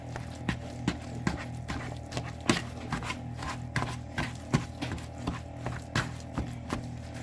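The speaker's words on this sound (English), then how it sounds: "I like to use my little chopper thing. It breaks up everything great." Hand-operated kitchen chopper pulled repeatedly to break up food, giving a steady series of sharp clacking chops with a low rattling hum between strokes, close and moderately loud.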